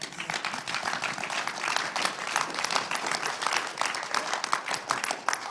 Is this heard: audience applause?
yes